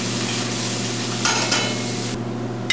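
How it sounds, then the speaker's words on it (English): Onions sauté in the bottom of a pot that will be used for braised boneless short ribs, giving a loud, steady sizzle over a low hum, with a few brief stirring scrapes. "you're gonna let this go for about 2 to 3 minutes, just until the onions are softened."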